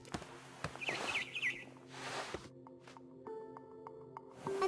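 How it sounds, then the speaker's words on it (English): A barn swallow's chirps and tweets in the video game What Remains of Edith Finch come in short bursts amid soft game-like tones and rustles, fairly faint and close, with no talking. "Then I heard chirping outside my window. It was a barn swallow going back to her nest."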